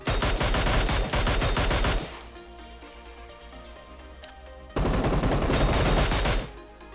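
Gunfire in PUBG Mobile, a solo-versus-squad fight in Pochinki: two long, loud bursts of rapid automatic fire separated by a few seconds of quieter game ambience.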